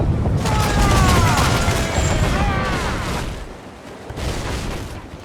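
Mortar fire in the pirate ship battle game Assassin's Creed Black Flag, a loud dense volley of booms and crackling blasts at sea that fades somewhat and then rises again.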